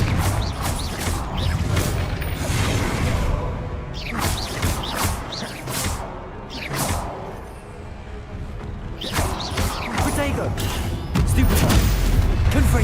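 Repeated Confringo fire blast spells in Hogwarts Legacy, booming bursts and crackling impacts recurring through a busy stretch of combat with other spell effects and game music underneath.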